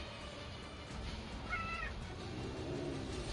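House cats meow while fighting, one brief, faint cry rising out of a steady background hum.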